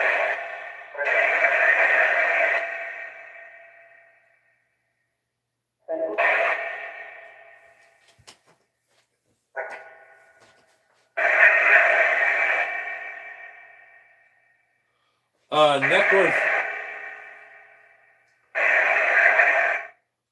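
Bursts of hissy radio-sweep noise from the Necrophonic ghost box app sound in several separate chunks of a second or two each, with quiet gaps and a few short clicks between them.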